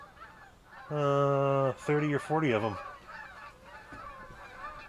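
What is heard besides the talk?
flock of Canada geese honking overhead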